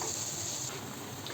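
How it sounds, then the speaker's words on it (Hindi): Mutton for nihari frying in a pot over high flame, a steady broadband sizzle and hiss that holds fairly loud and even throughout, with no voices. "गोश्त हमने ऐड कर दिया है और आँच हमने तेज़ ही रखनी है ताकि ये थोड़ा सा फ्राई हो इसके अंदर"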